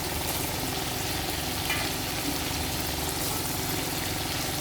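Fish frying in mustard oil with onion and mustard paste, a steady, even sizzle and bubbling that fills the whole stretch at close range with no pauses and no talking.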